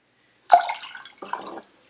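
A cup of water poured briefly for a pickling brine: a sudden close splash followed by a short, bubbly trickle that fades within about a second.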